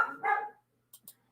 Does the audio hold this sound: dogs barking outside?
yes